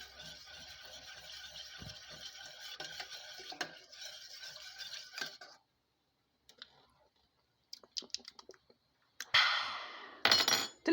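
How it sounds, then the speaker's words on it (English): Lentil and rice soup being stirred in a pot, with soft intermittent scraping and clinking of a utensil against the pot, quiet and close, broken by pauses and a few sharper knocks near the end. "Stir that up."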